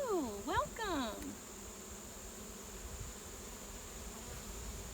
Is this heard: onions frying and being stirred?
no